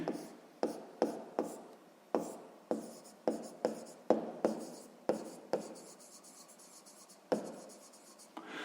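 A pen scratches across paper while math notes are written for a sixth-grade lesson on proportional quantities, a quiet, close run of short strokes and taps in an uneven rhythm, with no talk.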